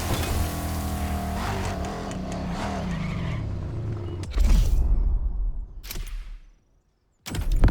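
A Ferrari GTO in The Crew Motorfest racing game: a steady engine drone with tire squeal and skidding, then a louder burst, a short silent gap and the engine returning at the end.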